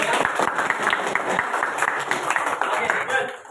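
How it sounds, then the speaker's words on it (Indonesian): Classroom audience clapping for a student, a brisk burst of hand claps from a small group that tapers off, with some voices mixed in. "Beri tepuk tangan dong untuk Alvaro ya."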